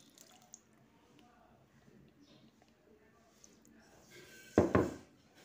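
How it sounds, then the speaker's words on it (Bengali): Spice-mixed water is poured into a pot of handi chicken with onion, chillies and garlic, a short close splashing pour near the end after quiet kitchen sounds. "অল্প একটু মশলা মাখা জলটা দিয়ে দিলাম"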